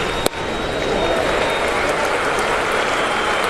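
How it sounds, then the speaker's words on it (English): A large baseball stadium crowd of tens of thousands cheers and applauds steadily, a dense roaring wash of clapping after a sharp crack at the start, loud and sustained. "Crowd getting into it again."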